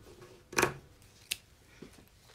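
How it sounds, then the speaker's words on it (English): Scissors snip through cutaway embroidery stabilizer on a machine-embroidered in-the-hoop wine tote, one sharp close cut followed by a second smaller snip and faint handling rustle. "cut my stabilizer off in between here because I use cutaway, not the other stuff. I can handle my scissors."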